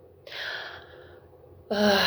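Forceful yogic breathing sounds close to the microphone: a long airy exhalation, then a sharp loud intake of breath.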